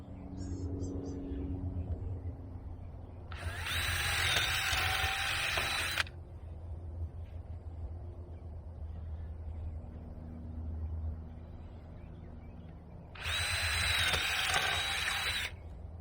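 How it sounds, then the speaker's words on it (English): A handheld power drill runs in two bursts of several seconds each, used while wiring up support for banana plants outdoors, loud and close over a low background hum. "I'm gonna take my drill and some wire."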